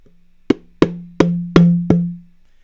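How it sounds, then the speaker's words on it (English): Five bongo strikes through a low-pass filter in a steady rhythm, each with a low ringing tone that sustains between hits, close and fairly loud. "This bongo has the low-pass filter on it"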